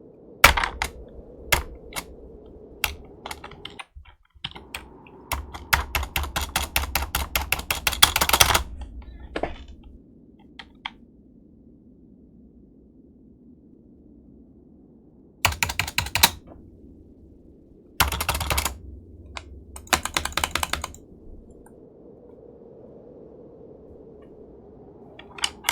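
Computer keyboard typing during a PC game session: bursts of rapid clacking keys alternate with scattered single taps and quiet gaps, close and fairly loud.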